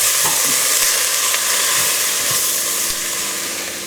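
Onions sizzling loudly in a pan while being stirred, a constant close frying hiss broken by occasional scraping knocks from the stirring, with no talking over it.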